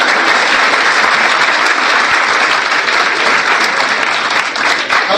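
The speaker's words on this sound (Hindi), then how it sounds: "हाँ, इस पर ताली बजा देनी चाहिए।" A large audience claps loudly and steadily, a dense wash of applause that stays at full strength throughout with no break.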